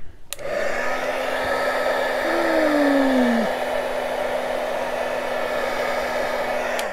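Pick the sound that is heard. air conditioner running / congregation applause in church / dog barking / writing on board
air conditioner running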